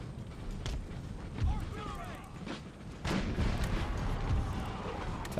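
Cannon fire from an Empire Total War battle, with several deep booms and rumbling blasts rolling out over a noisy battlefield, one heavy hit near the middle and a louder burst toward the end.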